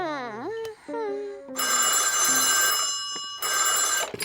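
A cartoon telephone rings in two loud bursts of rapid bright jangling, the first lasting over a second and a half and the second starting after a short pause, preceded by a child-like cartoon voice speaking.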